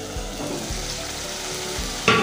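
Vegetables and soya chunks fry in a pan with a dense, steady sizzle and crackle, punctuated by a few soft stirring knocks and a brighter scrape near the end, close and alone.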